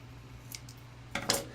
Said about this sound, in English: So I'm just gonna kind of snip this out just a little bit more.